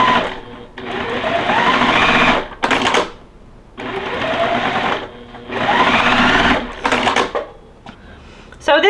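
Sewing machine stitching quilt block sections together, running in several loud whirring bursts with short pauses and clicks between, close up.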